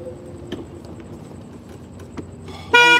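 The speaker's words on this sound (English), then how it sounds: "Is that why we're honking?" A golf cart horn gives a short, loud honk near the end after a fairly quiet stretch of street ambience on the Las Vegas Strip near a wedding chapel.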